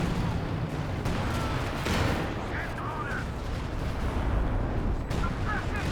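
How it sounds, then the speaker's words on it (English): Artillery shells and gunfire rumble through a large 4v4 battle in Company of Heroes 2 set in Lienne Forest, a dense, continuous wash of booms and bursts at mid distance with a commentator talking over it. "Oh, it's just artillery flying everywhere."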